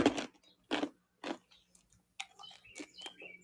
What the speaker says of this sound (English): It is, I'm trying an ice cube.